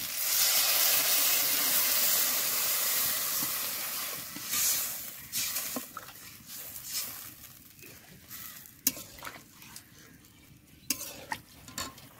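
Water poured onto potato and pumpkin frying in a pan: a loud rushing hiss at first that fades into a softer sizzle with sharp utensil scrapes and knocks, close by, no voices.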